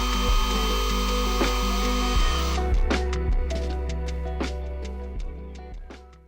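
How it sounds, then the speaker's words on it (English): Shine Mate EB210 cordless mini polisher spinning, a steady high motor whine that cuts down after about two seconds, followed by a series of irregular clicks and taps as it winds down. "double press the trigger, and it will continue to spin until you press the trigger once more to stop it"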